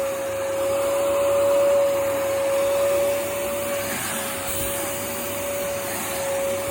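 A Kiwi upholstery washing machine cleans a chair, making a loud, continuous motor whine with a steady high tone and rushing suction, heard close and alone.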